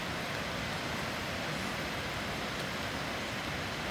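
The big waterfall at Plitvice Lakes National Park in Croatia in pouring rain. A steady, dense, unbroken roar of falling water fills the scene at an even level, with no talking.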